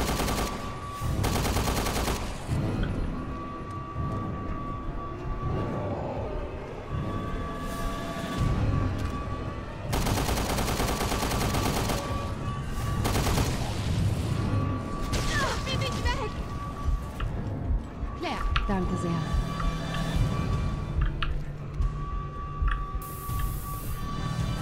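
Gunfire from the video game Resident Evil Revelations 2: repeated sharp shots and bursts scattered through a dense game soundtrack, with a voice talking over parts of it.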